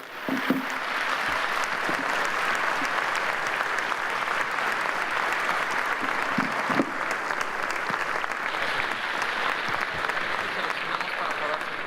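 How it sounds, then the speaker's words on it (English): Sustained audience applause for Professor Stiglitz after a keynote speech, a steady dense roar of many hands clapping at even loudness for the whole stretch. "let me congratulate Professor Stiglitz with an applause"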